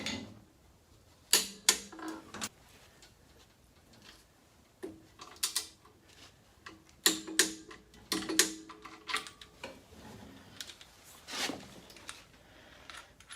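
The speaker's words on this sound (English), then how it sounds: "We're going to torque them to 76 foot-pounds." Torque wrench on the rear brake caliper bolts of a Toyota 4Runner, giving sharp clicks and ratcheting ticks in irregular bursts against a quiet garage background.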